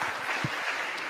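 A short burst of scattered audience applause during a televised presidential address, sounding distant and light.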